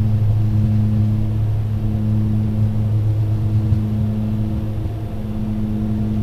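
Garrett TPE-331-12UHR turboprop engines at takeoff power on a BAe Jetstream 32, a steady loud droning roar with strong low tonal hum held throughout, heard from inside the aircraft.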